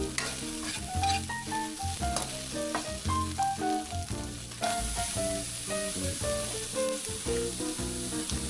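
Carrots and baguio beans sautéing in a pan, with steady sizzling under repeated stirring clatter and a bright melodic music bed running throughout.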